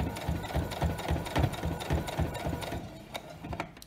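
Sewing machine stitching fabric around a curve while the fabric is twisted by hand, a rapid mechanical whirring hum with steady stitch pulses that slows and pauses near the end, no voices.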